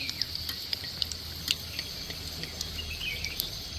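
Gaja pastry dough bubbles and sizzles steadily in hot oil, a close, even fry broken by small crackles and pops, with no one talking.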